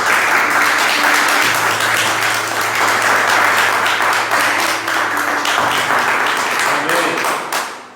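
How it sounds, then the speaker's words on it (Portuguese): A church congregation in Guarulhos, São Paulo applauds in unison, a dense, steady wash of clapping lasting about eight seconds before fading at the end, with voices mixed in beneath it. "queremos nessa noite dar uma salva de palmas aqui"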